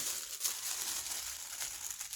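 A paper McCall's 5141 skirt sewing pattern rustles and crinkles as it is handled, soft continuous crackling at close range with brief louder crumples, no talking.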